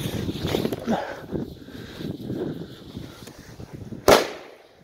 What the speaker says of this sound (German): Komm, machen wir hier mal so ein Weko-D-Böller.